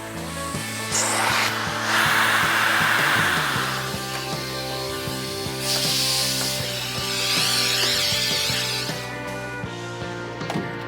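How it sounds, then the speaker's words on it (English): A vacuum runs on an off-road 6x6 build, giving loud breathy hissing and whooshing surges that rise and fall in waves over a steady mechanical hum, with no speech. "And we got vacuum action, Caitlin."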